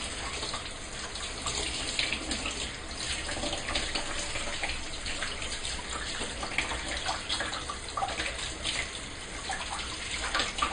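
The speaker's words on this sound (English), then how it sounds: "I have to wash that one, but first I wash my hands." Tap water runs steadily into a sink while hands are washed before preparing chapati dough, a close, continuous splashing hiss with small irregular surges and no talk.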